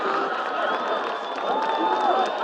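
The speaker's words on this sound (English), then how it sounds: "Give a big round of applause for all of our youth sports teams" Crowd at a high school football game between William Blount and Hardin Valley Academy applauding and cheering for youth sports teams, a sustained roar of clapping and shouts from a large stadium crowd with a whistle-like tone threading through.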